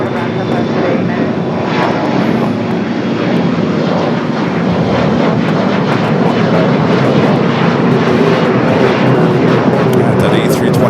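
An Airbus A321neo taxis across runway 25 Right at LAX, its engines making a loud, steady roar that fills the whole stretch without letup.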